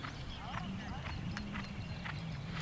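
Horse hooves clip-clop at a steady walking pace through woodland, a few clear hoof strikes standing out over a low continuous rumble, with talking heard alongside.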